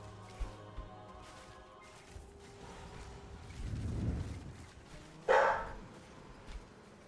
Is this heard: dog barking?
yes